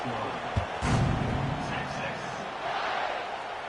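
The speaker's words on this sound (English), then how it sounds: "this crowd is buzzing after that last score" A football stadium crowd hums with a broad, steady roar after a score, with a louder swell near the start, and an announcer talks over it throughout.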